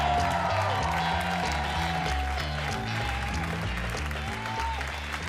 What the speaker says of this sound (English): That's nice applause.